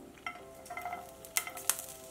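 Garlic cloves and fresh ginger frying in a small amount of oil for drumstick gojju, a soft steady sizzle with a few light clinks of a spoon stirring against the pan, quiet and close.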